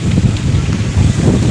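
Strong wind blows hard and steadily against the microphone outdoors, giving a loud, continuous rumbling buffet with no pauses.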